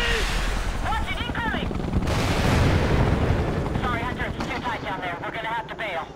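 Heavy gunfire and blasts, including RPG fire, in a co-op mission of Ghost Recon Future Soldier: a dense, continuous barrage that swells in the middle, with voices talking over the chaos.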